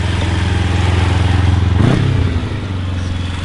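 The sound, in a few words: 2008 Kawasaki Ninja 250 motorcycle engine revving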